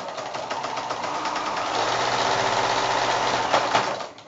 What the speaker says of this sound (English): I'm going to just sew with my 1/4 inch seam allowance.